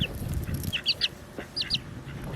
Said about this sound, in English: I gotta bring the chickens over here.